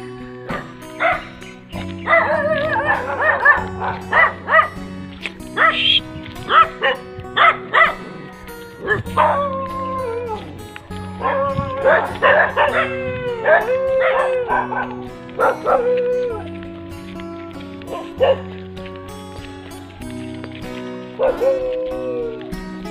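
A dog yips, whimpers and lets out drawn-out howling barks in repeated bursts, close by, while people talk intermittently in the background.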